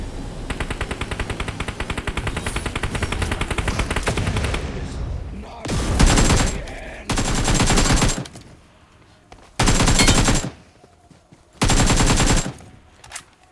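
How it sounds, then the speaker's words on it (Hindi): Loud automatic gunfire in the mobile battle royale game BGMI: a long sustained burst, then several separate rapid-fire bursts with short gaps of quiet between them. "टावर से गोली चली"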